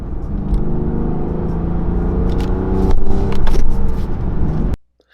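Turbocharged BMW F10 with an N55 engine and a performance intake, its steady induction roar and engine drone swelling briefly under acceleration before cutting off abruptly near the end.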